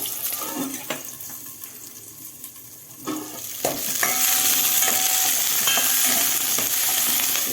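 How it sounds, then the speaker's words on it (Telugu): Green chillies frying in oil in a pan, a steady sizzle that swells louder partway through, with occasional stirring clinks and no talk. "పచ్చిమిర్చిలు అవి ఇప్పుడు వేయించుకుందాం. ఆయిల్ పోసిన ఇవి వేస్తా."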